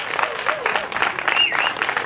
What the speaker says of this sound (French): Allez, on applaudit.